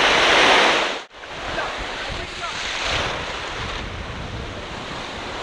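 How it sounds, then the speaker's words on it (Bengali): Sea waves roll and break on Bashbaria sea beach with a loud, broad surf roar and wind buffeting the microphone, dipping briefly before the crash and rush build again. "এই সামনে যাওয়া ঠিক হবে না, ঢেউ বেশি।"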